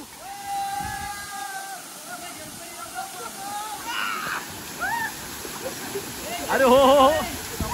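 A hidden waterfall near Adgaon in Shrivardhan rushes steadily in a quiet spot, with people's voices and a few whistles over the constant water noise.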